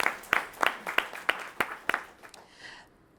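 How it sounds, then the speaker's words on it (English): Audience applause at a homecoming lecture, starting as a handful of sharp, separate claps that ring out near and then thin away into silence within a few seconds. "that deserves a round of applause"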